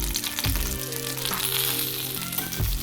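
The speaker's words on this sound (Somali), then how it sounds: "xoogaa yar oo kufta ama hilib shiishiid oo kuusay oo wax yar oo saliida ku gadgadinaya" Minced meat or meatballs frying in a little oil, giving a steady, close sizzle with bursts of crackle and a few stirring scrapes, and no voices.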